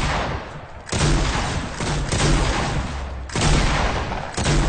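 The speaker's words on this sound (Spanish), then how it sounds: "Oye, esta escopeta destroza, ¿eh?" A heavy legendary shotgun fires repeatedly in the Fortnite video game, with loud, close blasts in quick succession and dense explosive bursts filling the clip. No one speaks.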